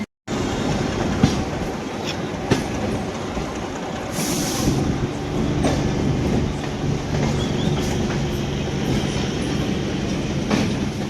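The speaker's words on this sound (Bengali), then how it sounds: "এই মুহূর্তে কিন্তু আমি উঠে পড়লাম ট্রেনে" A train runs on its rails, heard from inside the carriage as a loud continuous rumble with periodic clicks from the wheels passing rail joints and a low hum throughout.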